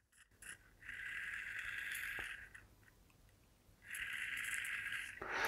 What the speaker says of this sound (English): That is the sound of the rotor spinning away as I try and turn this.